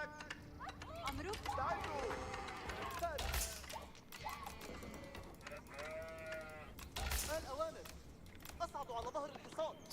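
Sheep bleating in a strategy video game, with several wavering bleats among game effects and hoof clip-clops, under a player's steady commentary.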